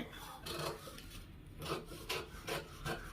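Faint, rhythmic rasping strokes of scissors snipping through fabric while cutting churidar sleeves, repeated several times.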